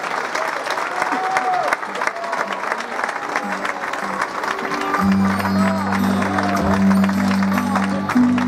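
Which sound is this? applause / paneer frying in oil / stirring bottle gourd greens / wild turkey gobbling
applause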